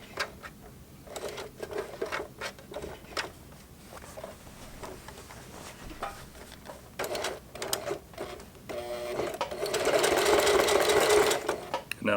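A Singer Heavy Duty sewing machine hemming jeans, running in short bursts of rapid rhythmic stitching with pauses, then a longer, louder steady run near the end, close up and with no talk.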